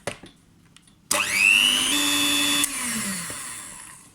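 An electric hand mixer whisking eggs, sugar and water into cake batter switches on with a loud whine that revs up, holds steady, then eases slightly; a few quiet clicks come before it starts.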